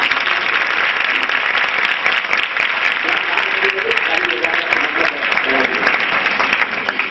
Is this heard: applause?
yes